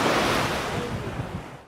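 Surf washing onto the open sand beaches of Lake Turkana, a steady broadband wash of breaking waves with a light wind rush, close and continuous before fading at the end.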